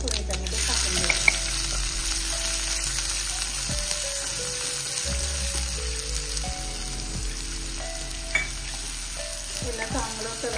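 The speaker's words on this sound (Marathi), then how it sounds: "याला चांगलं कलर येईपर्यंत आपण परतून घेऊया।" Chopped onion sautés in hot oil with whole spices for a kurma in a home kitchen, giving a steady, dense sizzle with occasional stirring scrapes throughout.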